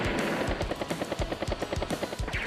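A battle attack plays out in the video game Advance Wars: Days of Ruin, with a Duster aircraft and a battlecopter trading fire in rapid, loud rattling bursts and thumps that repeat throughout.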